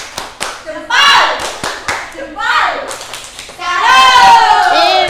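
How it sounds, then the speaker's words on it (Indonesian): A class of children performs a rhythmic clapping chant in a school setting, sharp close hand claps punctuating loud, eager group voices that rise in bursts. "Coba tepuk salut lagi yang semangat"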